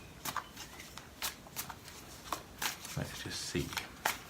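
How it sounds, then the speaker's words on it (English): Tarot cards shuffled by hand in short, uneven bursts of papery flutter and slaps, close up, with a person speaking briefly between them. "I'm not very good at shuffling."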